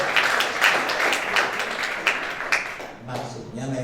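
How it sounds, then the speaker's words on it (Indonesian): A church congregation at a Sunday communion service claps together for about three seconds. The applause is dense and close, then fades out as a voice begins to speak. "Tepuk tangan dulu ya buat Bapak."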